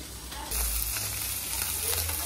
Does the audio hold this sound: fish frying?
yes